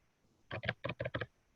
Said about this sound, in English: I'm kind of typing here